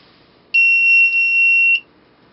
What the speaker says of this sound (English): about a 1 second long beep.